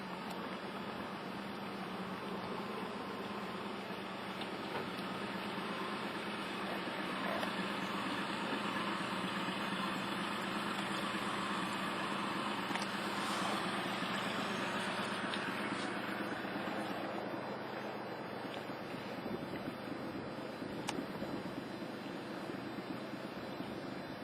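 A boat engine idles with a low, steady hum among floating ice in Alaskan waters, joined by lapping water and light wind, with no voices.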